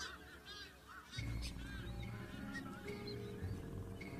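Nazca boobies call at their nesting site on Malpelo Island, with repeated honking, goose-like cries close by over a constant low rumble, with no talking.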